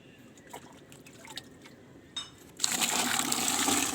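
Water pours into a container holding soaked mustard oil cake, a steady rushing splash that starts partway through after a few faint drips and knocks, fairly quiet and close.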